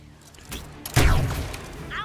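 Gunfire in the strategy game ZCom, a sharp boom near the middle of a short burst with a smaller crack before it, the blast ringing out briefly afterward.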